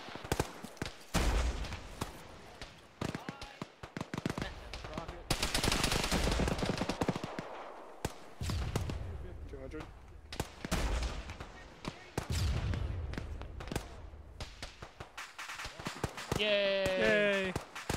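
Video-game gunfire in a ShackTac military session: repeated bursts and single sharp shots, some near and loud, others fainter, scattered through the clip with radio-style voices talking in between.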